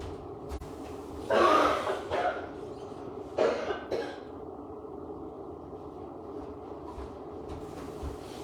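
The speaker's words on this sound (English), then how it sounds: "I'm going to move away from the camera while I cough." A few harsh coughs in two bursts, fairly close, against a steady low background hum, followed by quiet.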